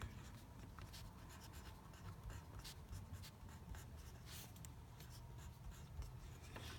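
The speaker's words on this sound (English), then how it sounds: "So I'm just gonna write out the equation." A pen scratches across paper as an equation is written out by hand, faint continuous scribbling with small taps and strokes, close up and quiet, with no talk.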